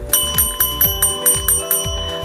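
Notification bell sound effect: a bright, ringing bell struck about eight times in a quick, even rhythm, loud and close with no speech.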